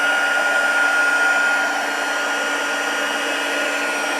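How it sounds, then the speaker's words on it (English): Heat gun warming craft stamp ink, blowing as a steady, loud, airy whir at close range that drops slightly in level partway through and carries on alone. "Then I need to take my heat gun. I'll just heat it up a bit first."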